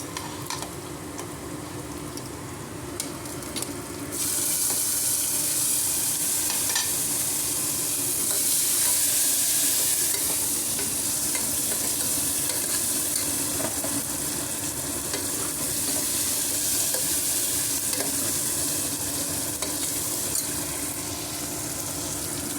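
Chopped tomatoes frying in hot oil in a pan for aloo pulusu, a loud continuous sizzle close up that swells after the first few seconds, with faint stirring scrapes throughout and no talk.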